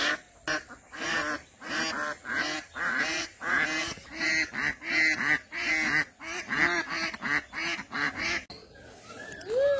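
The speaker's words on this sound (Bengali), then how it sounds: "যে হাঁস" Ducks quacking in a foggy Bangladeshi village morning, a loud, close flock giving rapid, overlapping honking quacks in continuous bursts with barely a pause.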